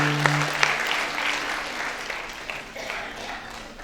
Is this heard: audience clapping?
yes